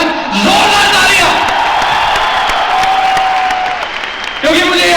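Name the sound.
loud audience applause and cheering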